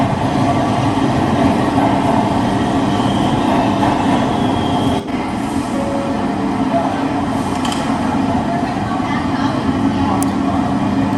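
A New York subway train rumbles steadily and loudly on the rails for the whole stretch, with a continuous rolling roar and faint voices underneath.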